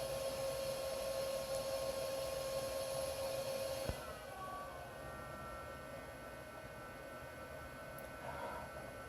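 Loud, steady whine and roar of a GeForce FX 5800 Ultra graphics card's cooling fan. It runs continuously, with a faint tonal hum and a brief click midway, after which the noise drops slightly but keeps blowing.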